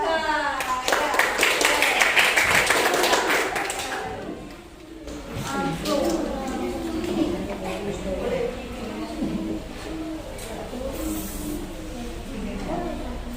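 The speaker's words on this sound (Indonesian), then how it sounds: "tepuk tangan untuk kelompok 3." A group claps hands in a classroom coaching session, with loud, rapid clapping for the first few seconds before it fades into chatter and a teacher's voice.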